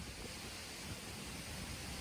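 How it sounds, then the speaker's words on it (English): A breeze blows through a valley beside Felkers Falls waterfall, a steady, even rush of broadband noise with no breaks, carrying a faint rumbling wind buffet throughout. "I'm sure the breeze, you can hear it"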